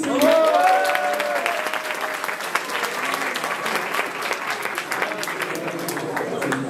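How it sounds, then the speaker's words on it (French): Audience applause fills a small stage show after a magic card trick, a dense steady clapping that holds strong throughout with a little crowd noise mixed in. "Vous pouvez applaudir Justine, s'il vous plaît."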